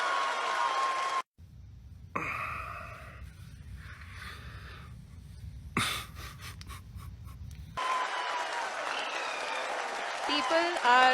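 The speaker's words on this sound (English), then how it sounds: "people are applauding." An audience in the ISRO control room applauds the lander's approach to the lunar surface, with bursts of clapping at the start and end separated by quieter stretches, a broadcast voice, and breathy sounds.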